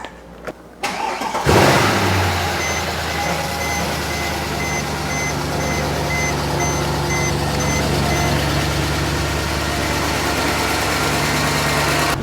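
A Mercedes E63 M156 V8, freshly rebuilt with new cams and cam phaser plates and running a factory exhaust, cranks briefly and fires up, then settles into a loud, steady rumbling idle with faint intermittent beeping in the background.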